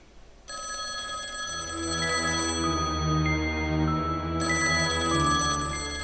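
A telephone rings continuously and loudly, a steady electronic bell-like tone holding throughout with no talk over it.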